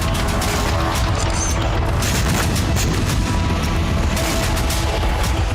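War-zone explosions and artillery fire in Ukraine: a dense, continuous barrage of low booms and crashing blasts, loud and unbroken throughout, with no clear gaps between impacts.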